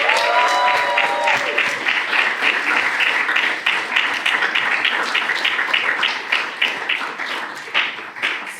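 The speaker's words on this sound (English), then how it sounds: "One round of applause for everyone." Graduation guests at UC Berkeley's Master of Development Engineering ceremony applaud steadily, with crisp individual claps over a moderate crowd that gradually thins and softens, and a brief voice at the very start.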